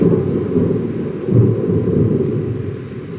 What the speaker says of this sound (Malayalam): നല്ല ഇടിയുണ്ട് കേട്ടോ.